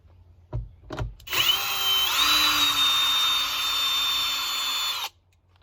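After a couple of clicks, a power drill whines steadily for about four seconds, its pitch rising slightly as it backs out a 5/16-inch sun visor bolt on a 2011 Jeep Grand Cherokee, then stops.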